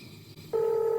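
Telephone speed-dial tone from a phone being used to call a number: a sudden steady electronic tone starts halfway through and holds, following quiet background noise.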